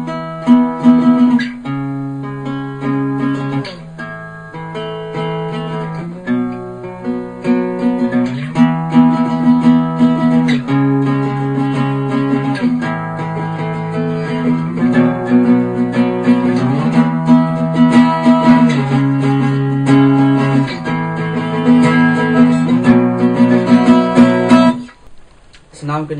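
A song is played on guitar, a steady sequence of strummed power chords repeating in a regular rhythm. The playing is close and loud for about 25 seconds, then cuts off briefly near the end.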